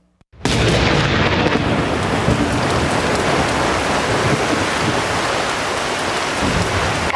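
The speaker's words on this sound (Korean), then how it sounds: "갑자기 구름과 안개가 하늘을 덮고 번개가 치며 우박이 내렸다." Thunderstorm with lightning and hail: a dense, steady roar of heavy rain and hail with deep rumbling thunder, starting abruptly after a brief silence and staying loud and continuous throughout.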